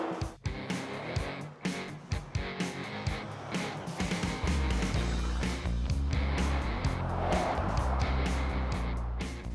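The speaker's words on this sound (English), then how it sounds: "There's probably about 30 vehicles in this convoy" A long convoy of about thirty cars rolls along a winding country road, engine and tire noise rising from faint, intermittent thumps into a steady, building rumble as vehicles pass close by.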